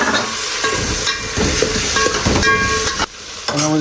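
Two tomatoes go into a hot pan of chana biryani and sizzle steadily, with some stirring and clatter, close and fairly loud throughout, a brief dip near the end.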